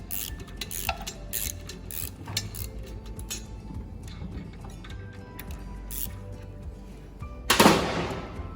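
Hand tool working screws and lock tabs on a Huaming CV tap-changer during maintenance, with scattered metallic clicks and ticks and a louder clattering burst near the end.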